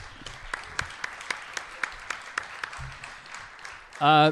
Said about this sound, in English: Everybody give a round of applause again to Jeff Vibbert